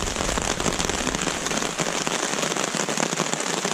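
Rain falling steadily at a forest campsite in Allegheny National Forest, Pennsylvania, a loud dense patter of drops on surfaces, continuous and close, with no voices.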